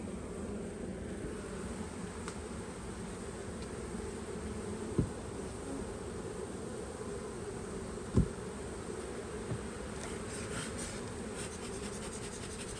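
Honeybees drone in a dense, continuous buzz around an open beehive during a frame inspection, the hum steady and close throughout with a couple of sharp knocks.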